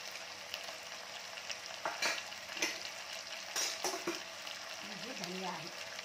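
Chicken dal with garam masala, cinnamon, cardamom, bay leaf, salt and coriander sizzles steadily in a pan, with a few scraping stir strokes and soft clinks of a utensil close by.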